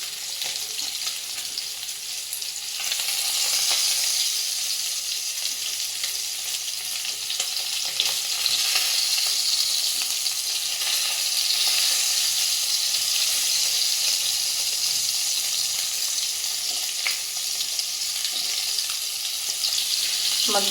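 Lentil dumplings (bori) frying in hot oil, a continuous bright sizzling hiss that holds steady and close for a long stretch, with faint stirring and brief background murmurs.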